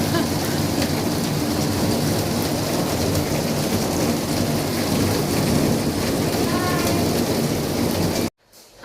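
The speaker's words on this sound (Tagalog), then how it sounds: "Patak ng ulan." Heavy rain pours steadily in Abu Dhabi during a thunderstorm, a dense, loud, continuous roar with low thunder rumbling underneath, ending abruptly near the close.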